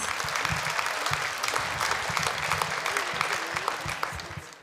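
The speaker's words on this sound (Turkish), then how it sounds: "gürdeli alkışlarını ızgaramız" Audience at a Crimean Tatar Hıdırellez concert applauding after a folk ensemble's dance, a dense burst of many clapping hands with a rhythmic pulse, a few faint voices in the crowd, fading toward the end.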